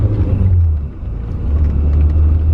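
BMW E30 M3 Sport Evolution driving slowly along a narrow one-way road, a loud, close, steady low engine rumble with a slight dip and then rising again.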